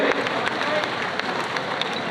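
Crowd applause at a public ceremony as Uttar Pradesh's Deputy Chief Minister releases a booklet, an even, dense clatter of many hands clapping throughout, with some voices mixed in.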